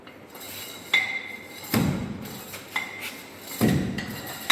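A Proctor compaction rammer drops onto soil in a 4 inch lab mold, giving about four dull thuds with a light metallic clink, spaced roughly a second apart.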